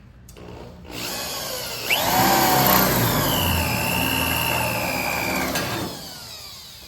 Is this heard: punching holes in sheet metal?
yes